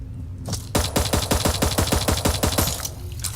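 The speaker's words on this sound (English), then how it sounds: "I'm sitting here shooting it from a distance and the bugs aren't doing crap." Rapid automatic gunfire shooting at bugs in Eden Star, a close, evenly spaced string of about fifteen sharp shots in quick rhythm, standing alone without talk.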